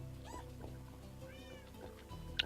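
Several cats meow in a Minecraft server world, a few short mews scattered over a steady low background hum, fairly faint and without talk.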